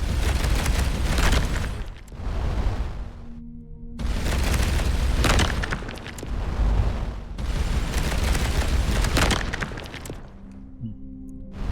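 Bursts of shooting at asteroids in the space game Starcom: Unknown Space, loud rumbling booms in three long sustained volleys separated by brief quieter gaps with low humming tones.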